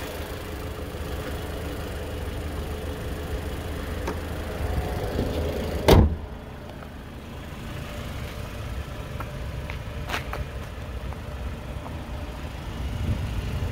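A 2019 Jeep Renegade Latitude idles steadily, then a car door slams shut loudly at mid-clip, followed by a second fainter thud while the engine keeps running.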